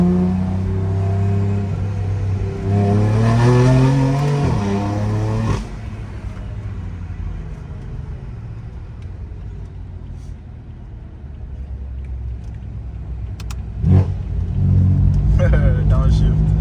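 A BMW M car engine revs hard with a rising growl, then drops back through a downshift into a steady loud rumble before surging again, heard close from inside the car.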